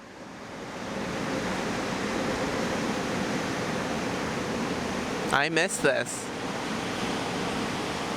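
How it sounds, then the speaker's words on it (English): Ocean waves roll steadily onto a San Diego shore, a constant broad wash of surf that fills the scene, with a brief voice speaking near the middle. "waves crash on the shore, it's therapeutic for me."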